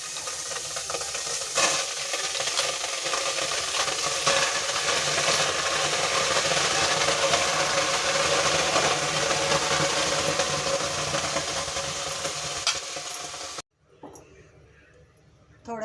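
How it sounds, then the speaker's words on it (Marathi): Pav bhaji vegetable mixture with mashed beetroot and tomato cooking in a pan, a steady loud sizzle and hiss with stirring scrapes, cutting off abruptly near the end to a quieter background. "चला आता आपण हे भाजी शिजायला टाकून देऊया"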